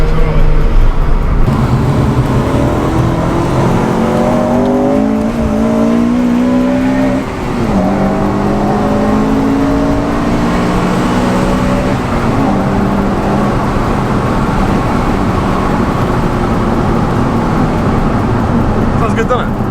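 Honda Civic Type R FN2 engine with its intake air pipe disconnected, running loud and close throughout with rising and falling revs, while people talk over it.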